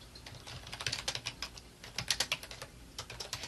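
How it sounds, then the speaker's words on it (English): Rapid, uneven clicking of someone typing on a computer keyboard, close and fairly soft, keys pattering in quick clusters. "So I could type a little bit now"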